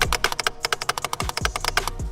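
Newly installed Keys Motorsports paddle shifters, clicked rapidly over and over at close range, giving a dense, crisp clatter of many sharp clicks with a few low thumps mixed in, and no voices.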